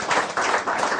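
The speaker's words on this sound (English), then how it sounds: "let's give a round of applause to Mimi." A short burst of applause, many hands clapping together in a dense, steady patter.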